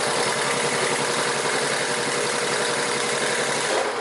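Singer 31-15 industrial sewing machine running under its clutch motor, stitching through three layers of marine vinyl and two layers of denim: a loud, steady mechanical whir with fast rhythmic needle pulsing throughout, easing slightly at the very end.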